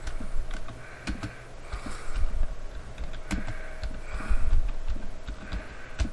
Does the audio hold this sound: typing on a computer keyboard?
yes